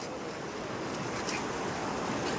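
Heavy rainwater rushing over a collapsed, poorly built culvert at Gwaridanda near Mandrayal: a continuous broadband roar of flowing water mixed with wind buffeting the microphone, steady and unbroken, with no voices.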